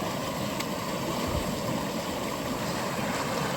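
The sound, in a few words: water bubbling up out of the ground after heavy rain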